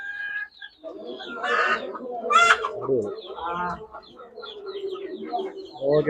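Laying hens cluck and murmur close by, with occasional louder squawks, while people talk over them.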